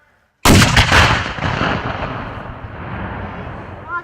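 Civil War historical reenactment gunfire at Fort Hoskins, Oregon: a sudden loud volley of near-simultaneous shots bursts out of silence and rolls away in a long echoing decay.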